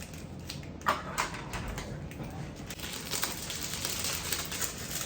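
Parchment paper cut into a cartouche sized to fit over a dish: close, crisp snips and papery crinkles, with a few sharper clicks early on over a steady rustling background.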